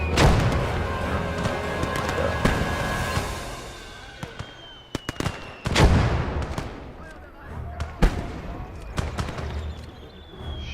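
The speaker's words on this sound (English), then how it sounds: "letting the mortar just shoot is not the best idea" Mortar fire in the Ostfront war game, with sharp, loud booms around the five-, six- and eight-second marks over a busy battlefield of scattered shots and rumble. No one speaks.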